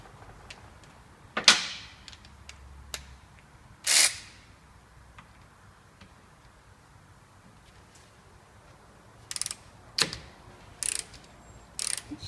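Ratchet clicking while loosening a front brake fitting on a Citroen C2 1.1: scattered short, sharp metallic bursts, a few isolated clicks early and a cluster of brief ratchet strokes near the end, close by in an otherwise quiet workshop.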